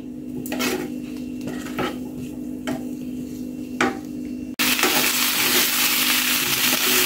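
Vegetables and tofu frying in a pan, with a steady sizzle under scattered clinks of a utensil against the pan, then the frying noise jumps louder and stays hissing for the last few seconds.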